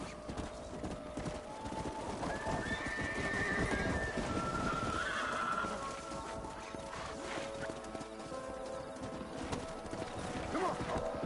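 Horses clip-clop steadily and neigh in Red Dead Redemption, the hoofbeats running throughout with a whinny rising mid-clip amid outdoor game ambience and no speech.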